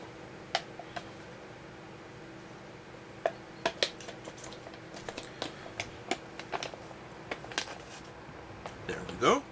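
A spoon scoops bean and sausage stew out of a Swedish ration pouch: small scattered taps, scrapes and wet squishes, faint and close, ending in a louder crinkle of the pouch.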